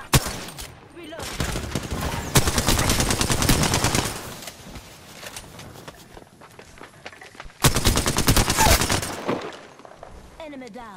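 Gunfire in the Apex Legends video game: rapid automatic bursts, loud and close, in two main volleys with quieter shots and movement between, and voices briefly heard.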